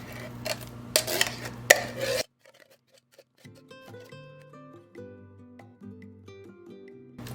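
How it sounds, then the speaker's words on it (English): Apple pie filling from a second can slides and plops into a baking dish for a caramel apple dump cake, a few soft wet thuds and scrapes after a burst of clattering utensil noise, close and quiet with no talk. "Now we're placing the second can of apple pie filling."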